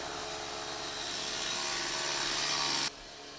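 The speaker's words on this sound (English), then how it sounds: "cut up some firewood to enjoy for the evening" Firewood is cut up outdoors at dusk. A loud, close, steady mechanical whine drones continuously and stops abruptly just before the end.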